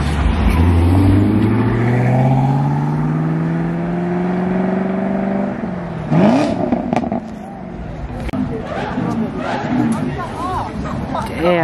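Supercar leaving a car show in Columbus, Ohio, its engine roaring loudly and rising in pitch as it accelerates away, with crowd chatter and shouting around it.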